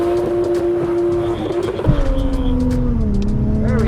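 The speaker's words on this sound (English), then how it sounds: "we're going to do a flamboyant start off the line" A Toyota Chaser launches hard off the line, its engine loud and close, pitch climbing, dipping at a gear change and rising again.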